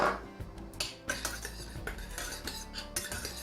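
Sautéed langoustine goes into a pan of vegetables at a restaurant kitchen, heard as close metallic clinks and scrapes of utensils against the pan in an irregular clatter.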